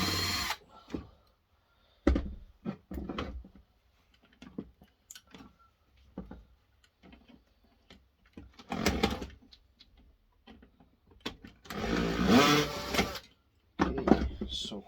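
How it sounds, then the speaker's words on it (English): A power drill works at screws inside an old hi-fi unit, heard in short intermittent bursts and stutters of whirring with pauses between, including a longer louder run near the end, while someone talks quietly. "I think we need a bigger drill bit."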